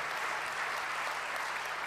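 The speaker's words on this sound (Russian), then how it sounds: "Дадим аплодисменты" A church congregation at a Sunday service breaks into applause, a dense, even wash of many hands clapping throughout.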